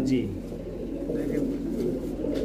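A pair of yellow-eyed pigeons coos with low, continuous throaty murmuring close by, the soft rolling coos running steadily under a busy market-like background; no clear speech stands out.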